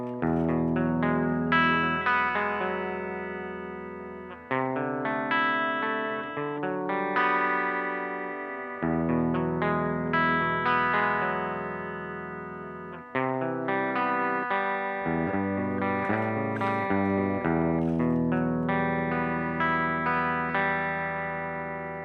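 Clean electric guitar played straight through a Laney amp with no pedals engaged, strummed chords and picked notes ringing out in steady phrases, close and fairly loud, with no talking.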